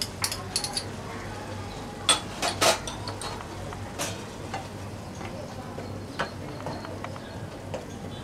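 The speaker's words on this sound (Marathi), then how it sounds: "आपल्याला छान खरपूस कांदा परतून घ्यायचा हा" Onion sautéing in a pan with ginger and garlic paste, a soft sizzle broken by sharp scraping and clinking stirs of a spoon against the pan, close and fairly quiet.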